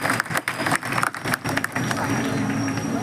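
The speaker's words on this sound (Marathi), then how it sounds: "एकच टाळ्या वाजवाय" Schoolchildren clap together in a short, brisk burst of applause at a school gathering. The many hands sound close and fairly loud, then fade into a rougher crowd murmur.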